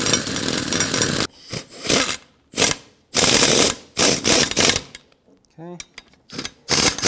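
Air impact wrench on its lowest setting driving brake caliper bracket slider pins on a 2007-2014 Chevrolet Silverado 2500 HD, several loud close rattling bursts separated by short pauses, with a brief spoken word.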